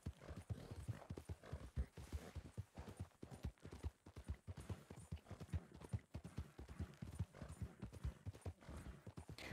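A horse's hooves clip-clop in a steady, brisk walking rhythm in a roleplay video game, close and continuous, with no talking over them.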